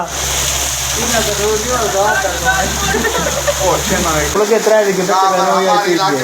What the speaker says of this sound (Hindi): बारिश है ये